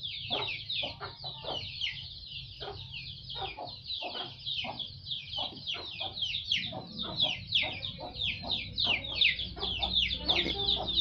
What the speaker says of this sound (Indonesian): Ayam nih, ayam, ayam.